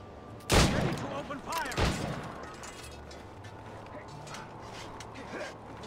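Naval cannons booming in the Assassin's Creed Rogue sea battle, two loud blasts near the start followed by lingering rumble and ship noise, with game voices faintly under it.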